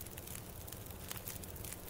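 A freshly lit campfire burns in the survival video game The Long Dark, giving off a steady close hiss with scattered small crackles and pops. The sound runs continuously and nobody talks over it.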